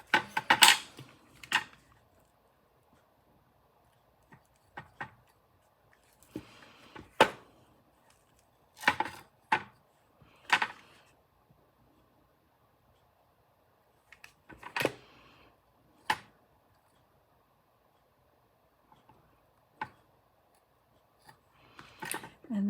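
Material for a DIY farmhouse vase is cut in a quiet room, giving a series of short, crisp snips and clicks spaced irregularly with silent gaps between them, close and alone.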